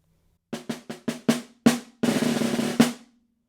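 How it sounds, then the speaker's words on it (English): A snare drum plays one measure with right-hand lead sticking: a run of crisp accented strokes, then a sustained buzz roll on beat three leading into a final hit on beat four, close and alone. "beat 3 has a buzz roll into beat 4"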